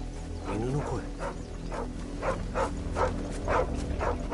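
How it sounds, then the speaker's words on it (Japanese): A dog barks in Final Fantasy XVI, a few short, evenly spaced barks at moderate distance over low ambient game sound, with a brief voice early on. "犬の声。"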